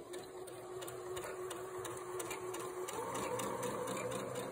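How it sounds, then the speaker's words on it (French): A sewing machine stitches a fabric storage triangle in a steady fast mechanical whir with a faint rhythmic ticking, running continuously and close. "je vais coudre mon triangle et je laisse ouvert ici"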